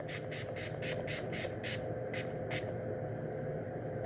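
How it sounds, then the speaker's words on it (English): Setting spray misted onto a face during a red eyeshadow makeup look, about nine short hissing bursts in quick succession for roughly two seconds, then a couple more spaced sprays before it falls quiet, close and fairly soft. "And now time for some setting spray."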